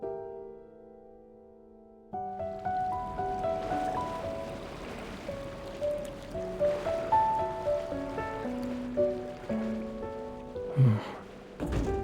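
Ocean waves in the video game Love and Deepspace wash steadily as a broad surf hiss, mixed with soft musical tones and occasional swells, fairly loud and steady after a quieter opening.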